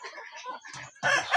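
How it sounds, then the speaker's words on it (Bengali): Native desi chickens on a poultry farm give short, busy clucks and murmurs in a quick burst, close by, with a louder flurry near the end. "দেখেন এই যে এখানে দেশি মুরগি আছে কয় পিস?"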